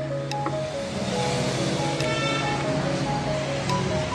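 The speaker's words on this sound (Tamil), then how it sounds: "இப்போ தைக்கிற பாருங்க, தையல் எப்படி விழுகுதுன்னு பார்ப்போம்" A sewing machine stitches with a steady mechanical whirr, continuous and close, with faint periodic clicks and no talking.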